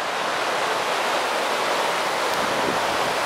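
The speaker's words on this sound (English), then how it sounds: "that's our river there." Clear Creek flows through a rocky granite canyon, a loud, constant broadband rush of moving water that fills the whole moment without pause.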